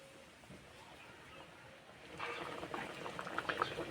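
A pot of dhoka and egg curry with potatoes simmers, faint bubbling at first that grows into louder, busier popping and gurgling partway through, heard close and alone.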